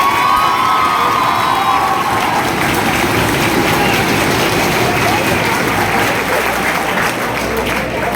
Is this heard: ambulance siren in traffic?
no